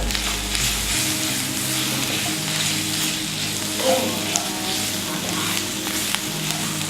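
Ginger garlic paste fries with vegetables over low heat for lamb with vegetables, giving a continuous, close, loud sizzle with soft stirring scrapes mixed in throughout.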